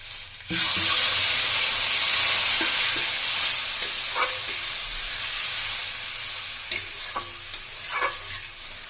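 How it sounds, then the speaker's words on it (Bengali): Masala with tomato fries in a pan and hisses loudly when a little water goes in, then settles into a steady sizzle broken by a few light stirring clicks and scrapes. "আমরা একটু জল দিয়ে ভালো করে কষিয়ে নেবো। একটু জল দিয়ে দিচ্ছি।"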